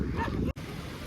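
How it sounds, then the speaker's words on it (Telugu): Village dogs near a dam bark in a brief, fairly close flurry, interrupted by a momentary drop in sound, with wind-like noise in the background. "ఊర్లో అన్ని కుక్కలు."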